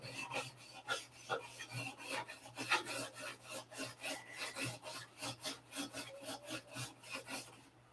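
Steady, rhythmic rasping strokes of hand-sanding an aircraft cowl nose to shape, each back-and-forth pass clear and close, repeating evenly for the whole stretch with a faint low hum underneath.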